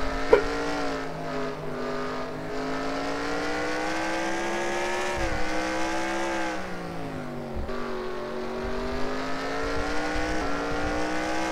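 Onboard engine of the number 6 stock car in a racing video game, a steady high-revving drone with pitch dips at gear changes, loud and continuous without talk.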